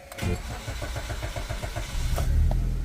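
A Maruti Suzuki Baleno engine cranks with a long, rhythmic starter whir of repeated pulses before catching and settling into a loud, steady idle, close by with no talking.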